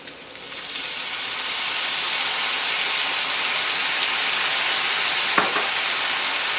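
Soy sauce poured into a hot pan holding fresh rice noodles, bok choy and beech mushrooms, giving a steady, loud hiss and sizzle with no talk.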